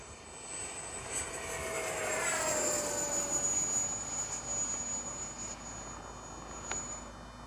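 E-flite 70mm Viper V2 RC electric ducted-fan jet flying overhead, a loud high whine that rises and falls as it passes, with the pitch sweeping down and steadying into a sustained tone.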